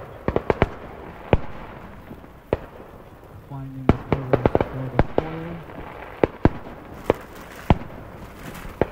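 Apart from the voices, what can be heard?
fireworks going off in the background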